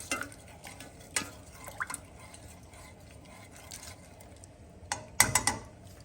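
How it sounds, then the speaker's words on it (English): Mustard seeds and colored black peppercorns are stirred in a pot for a pickled cucumber salad, giving soft scraping and a few sharp clinks against the metal, with quiet gaps between and no talking. "Give it a good stir."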